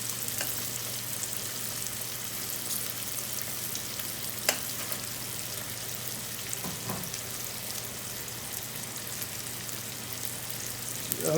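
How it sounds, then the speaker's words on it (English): Onions fry in a pan for a keema curry, a soft even sizzle holding steady throughout with a couple of faint clinks, no voices. "I'll just cook this for about 3 to 4 minutes and let the onions sort of caramelize"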